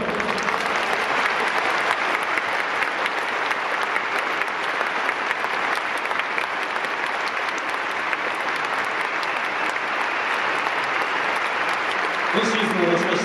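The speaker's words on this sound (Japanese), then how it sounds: "今シーズンをもちまして現役を引退されます吉見一輝選手に今一度大きな拍手をお送りください。" A baseball stadium crowd at a retirement ceremony for a Chunichi Dragons pitcher gives sustained, steady applause that fills the space evenly for the whole stretch, loud and dense, ending with a brief lower sound near the end.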